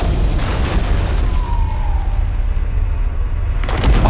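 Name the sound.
explosion cubes exploding in video game The Entropy Centre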